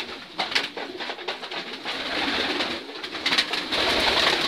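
Racing pigeons coo softly in a loft while they feed, their calls close and overlapping against a constant rustle of wings and feet.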